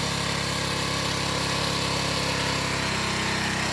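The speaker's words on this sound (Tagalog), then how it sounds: "Makakapag grass cutter ba tayo?" A grass cutter engine runs steadily on a farm, a loud, continuous buzzing drone that fills the whole stretch with no talking.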